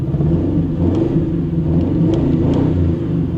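An old car's engine idles close by with a steady, loud, rough rumble, running continuously with no break.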